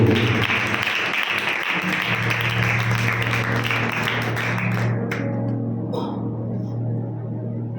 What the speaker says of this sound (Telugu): చప్పట్లు కొడుతూ దైవజనులకి సమయాన్ని అప్పగిద్దాం